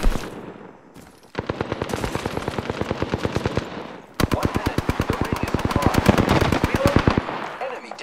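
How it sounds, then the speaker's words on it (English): Gunfire in the Apex Legends video game: two long, rapid automatic bursts of loud, evenly spaced shots separated by a brief pause, with faint voices in the background. "Opening fire on the enemy."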